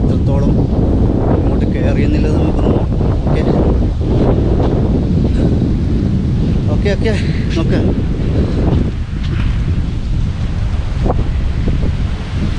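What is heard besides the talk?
sea waves and wind at a small beach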